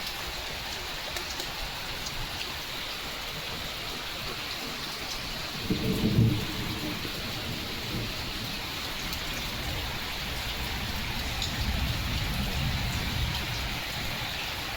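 Steady rain pours outdoors through the whole stretch, with a low rumble of thunder swelling near the middle and a softer roll later; no voices.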